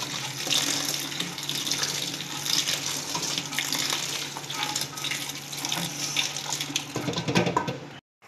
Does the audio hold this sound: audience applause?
no